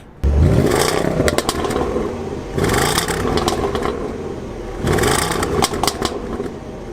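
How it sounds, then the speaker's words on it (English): A Land Rover's sport exhaust revs three times in strong surges, each roar rising and then easing back to a rumbling idle, close and loud. "It's a sport exhaust. It sounds fantastic."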